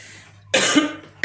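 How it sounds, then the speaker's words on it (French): A single sharp, close cough bursts out abruptly, followed by a second short cough onset at the end. "Excusez-moi, j'ai une toux là."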